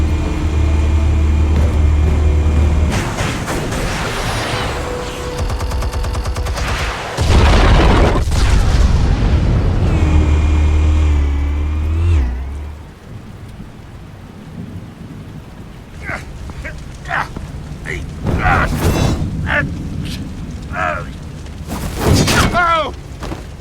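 Heavy explosive detonations in the Batman: The Telltale Series game, deep rumbling booms that build and swell over the first half, then fade into scattered crashes and impacts with voices speaking over them.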